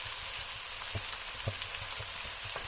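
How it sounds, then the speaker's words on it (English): Mushrooms seasoned with a pinch of salt fry steadily in a pan, a constant close sizzle with a few soft pops and crackles rising through it, no voices. "we're going to let that fry up for a little while"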